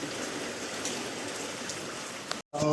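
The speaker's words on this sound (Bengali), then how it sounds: "ঠিক এখনো বৃষ্টি হচ্ছে।" Steady rain pouring down outdoors, a dense continuous hiss of drops on surfaces, loud and close, cutting off abruptly for a moment near the end before resuming.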